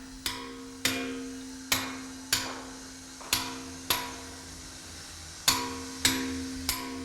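A chisel is struck into white Carrara marble in Italy, with about ten sharp, ringing hammer blows at a slow, fairly regular pace, each ending in a short decaying ring, close and clear.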